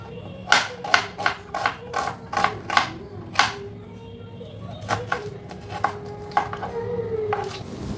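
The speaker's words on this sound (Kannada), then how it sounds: "ಹಂಗಾಗಿ 2 ಈರುಳ್ಳಿ ಕಟ್ ಮಾಡಿಕೊಂಡು" A knife chops two onions on a cutting board in a home kitchen, giving a quick run of sharp, evenly spaced strokes, a pause, then a looser second burst of cuts over a low background hum.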